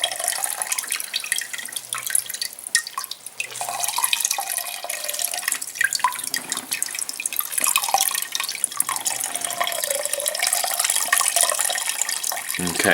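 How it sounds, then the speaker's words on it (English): Squeezed blackberry pulp releases juice that drips and trickles steadily for blackberry wine, a continuous close wet patter with small splashes and no talking. "I'll give it a bit of a squeeze because I want a bit more of the juice out."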